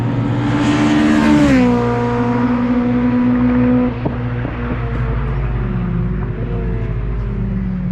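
Honda Civic EP3 with a 2-litre naturally aspirated engine, modified intake and exhaust, about 240 hp, on a race track; a loud rev rises then drops, settling into a rumbling idle with small blips.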